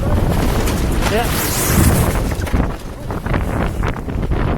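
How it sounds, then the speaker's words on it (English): Heavy wind on a 54ft sailboat, a loud, steady roar of gusts buffeting the microphone, with rushing water and creaking underneath and faint voices now and then. "It's windy today."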